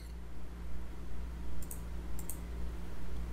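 Two quick pairs of soft computer mouse clicks, faint and close, sit over a steady low hum of room and computer noise while a PC is being cleaned up.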